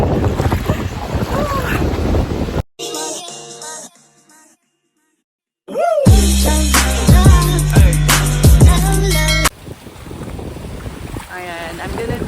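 Kayaking at sea off Boracay on a windy day: loud wind buffeting the microphone and rushing water, cut by a brief near-silent gap, then a burst of music-like sound before the wind and water return.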